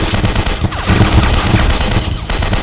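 Sustained machine gun fire in a VR shooting game, loud, rapid and continuous bursts of close gunshots with overlapping booms and no pauses.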